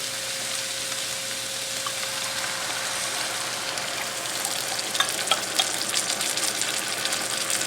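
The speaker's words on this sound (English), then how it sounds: "I'm going to go ahead and add my beef broth cornstarch slurry" Beef broth and cornstarch slurry poured over browned, broken-up ground meat in a hot pan for Philly cheesesteak sloppy joes, giving a soft, steady sizzle with a few brief clinks and stirring sounds toward the end.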